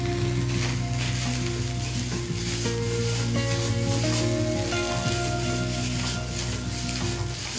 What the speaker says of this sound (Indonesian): Selanjutnya masukkan mie yang sudah direbus tadi.